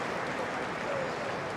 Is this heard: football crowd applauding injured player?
yes